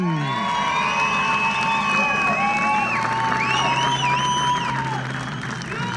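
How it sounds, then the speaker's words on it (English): Crowd at the Isle of Man Superstock TT race cheering and applauding the winner, Ian Hutchinson on a Honda: loud mixed whoops, shouts and clapping, with whistling and excited voices rising and falling throughout. "he gets an extra round of applause from Mike Crellin as well"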